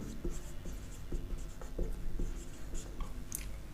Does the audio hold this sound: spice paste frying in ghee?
no